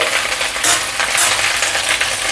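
Curry leaves roast in a pan until crisp and brittle, giving a loud, continuous, close crackling sizzle with a dry rustle of constant stirring and no voices.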